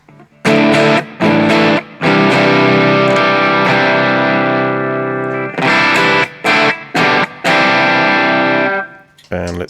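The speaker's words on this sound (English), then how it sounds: "Let's have a little bit of overdrive." An overdriven electric guitar plays through a Flashback delay pedal with a chorus TonePrint: a long held chord, then choppy repeated strums, loud and gritty with a swirling modulated sustain.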